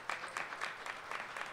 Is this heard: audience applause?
yes